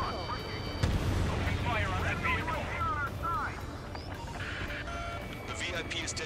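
Gunfire and heavy booms rumble continuously through an Ace Combat 7 mission, a dense, loud barrage with radio voices and chatter over it.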